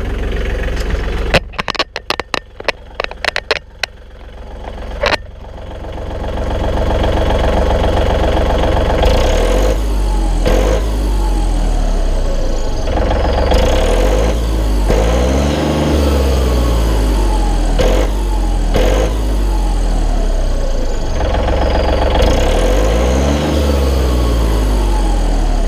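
A few sharp knocks and clatter at the start, then the Tier 4 diesel engine of a John Deere 4105 compact utility tractor settles into a steady, loud idle with a faint turbo whine on top.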